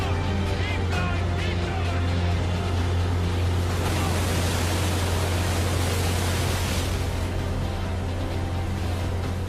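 Rough open sea with waves about two metres high off a coast, a loud constant rushing surge with a low steady rumble beneath, swelling slightly midway, with no voices.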